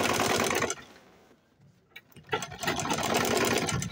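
A sewing machine top-stitches a light webbing strap for a DIY travel bag, running in two rapid, buzzing bursts separated by a quiet pause of about a second and a half.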